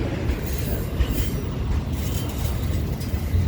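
A train passing nearby in Dorval, Montreal, its heavy rumble and rattling wheels filling the whole stretch at a steady level.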